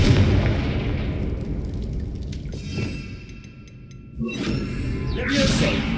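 Confringo blasting spell explosions in the Hogwarts Legacy game, deep booming blasts and crackling bursts that come in a couple of waves over a low rumbling bed, loud and close.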